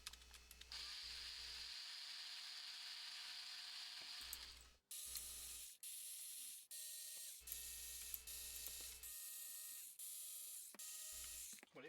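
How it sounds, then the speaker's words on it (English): Screws being backed out of a tape deck cover with a screwdriver, repeated ratcheting clicks and brief mechanical whirs in bursts separated by pauses, close and quiet, no talk. "I'm just going to start pulling screws out of this"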